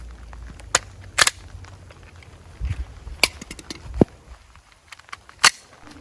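Handgun shots at an outdoor shooting range, several sharp separate cracks spaced irregularly over a few seconds with quiet gaps between them.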